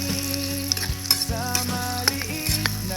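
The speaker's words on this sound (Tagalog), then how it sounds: "Dito po tayo nagigisa ng ricado natin para sa adobo." Spices for adobo sautéing in a pan over a wood fire, a steady loud sizzle with occasional stirring clatters and scrapes throughout, no voices.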